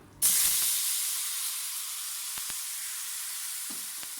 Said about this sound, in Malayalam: ഇത് മൂത്ത് വരുമ്പോൾ അതിലേക്ക് നമ്മൾ എടുത്തു വെച്ചിട്ടുള്ള പുളി പിഴിഞ്ഞത് ചേർത്ത് കൊടുക്കാം